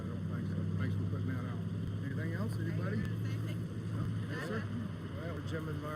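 Engines of a truck convoy rumble loudly and steadily close by, a constant low drone running through the whole stretch while people talk over it outdoors.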